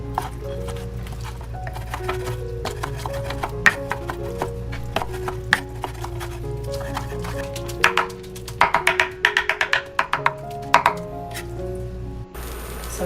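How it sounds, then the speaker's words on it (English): A knife cuts pork jowls into small pieces on a wooden board for Filipino sisig, giving scattered taps early on that build into a quick run of sharp, close chops, all under soft background music. "let's get the pork jowls, and I'm gonna cut this in smaller pieces, and then we will need to mince it"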